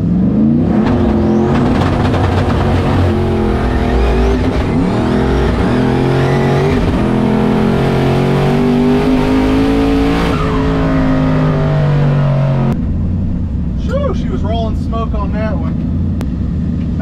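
Twin-turbo, manual-transmission Ford Crown Victoria drag racing down the strip, a loud engine roar climbing through revs with shifts before fading away, with voices talking over it.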